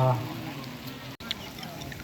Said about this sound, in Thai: ตอนนี้ฝนกำลังตกเนาะ